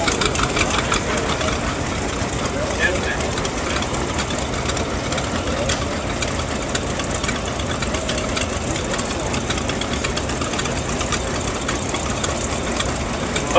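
A steady, throbbing overhauled tractor engine idles close by at a farm machinery auction for the whole stretch, with a constant low mechanical rumble and no clear voices.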